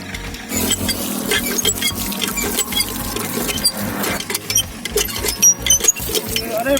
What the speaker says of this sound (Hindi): हमें मिल गया है यहाँ रास्ते में एक हेड पंप।